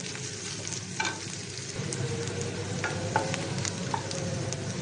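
Chicken manchurian pieces fry in hot oil in a pan, giving a steady close sizzle with small popping crackles and occasional stirring scrapes throughout, with no talking.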